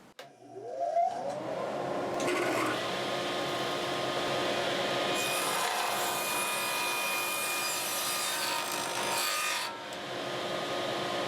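Wood pieces on a jointing sled feed through a thickness planer. The motor whines up briefly, then a loud, continuous cutting roar follows, with a short dip near the end before it resumes.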